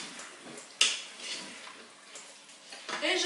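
A utensil stirs tomato paste in a cooking pot, sending a sharp clink against the metal followed by soft scraping and sloshing, close and fairly quiet.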